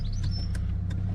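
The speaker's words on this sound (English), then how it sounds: "Handbrake." A car's handbrake is pulled on during a learner driving lesson, giving a few short mechanical clicks and creaks over the steady low hum of the idling engine.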